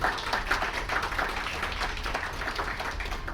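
An audience claps at a university chancellor's speech event in a Chennai hotel, a moderate, steady patter of many hands continuing throughout without a break.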